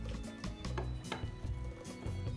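Chicken feet and onion cracker dough being stirred in a bowl, with a run of soft scraping and knocking strokes of utensil on the bowl, close and fairly quiet, no talking.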